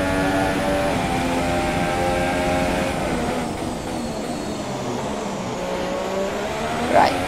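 Formula 1 car in the F1 2017 video game during qualifying on Xbox One, a steady high-pitched engine whine with shifting revs and faint tire noise, loud and continuous with no talking.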